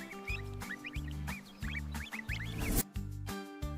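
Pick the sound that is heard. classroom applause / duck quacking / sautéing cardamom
duck quacking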